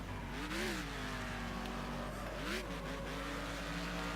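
Racing cars in the Next Car Game video game, engines droning and revving steadily with rising and falling pitch as one car overtakes, loud and continuous.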